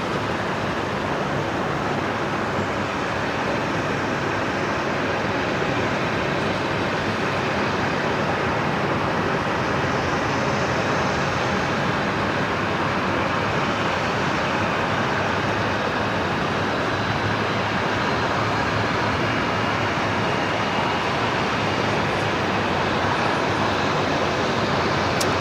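A jet airliner takes off from runway 19 left at Brisbane Airport at night. A loud, steady, broadband engine roar holds without a break for the whole span, heard from a distance, and there is no talk.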